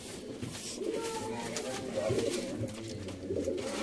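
Sialkoti pigeons cooing close by in repeated soft, throaty rolls, with someone talking over them.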